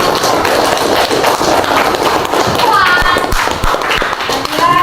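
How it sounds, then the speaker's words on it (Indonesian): Classroom applause for a student group rings out in a steady, busy patter of hand claps throughout, with children's voices and chatter mixed in. "Tepuk tangan untuk kelompok bunga melati."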